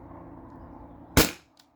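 A single sharp shot from a modded T4E HDP50 CO2 launcher on a 20 oz tank, a loud close pop with a quick decay after a low hiss of background noise.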